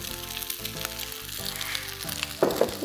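Cabbage sizzles with qeema in a hot pan, a bright continuous crackle heard close, partly under a steady tonal background hum, growing louder near the end as the frying intensifies.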